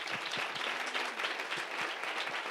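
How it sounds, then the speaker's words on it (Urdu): A church congregation applauds together during a sermon, a steady wash of many hands with occasional louder claps standing out, fairly distant and continuous. "آئیں اس کے لیے زوردار تالیاں بجائیں"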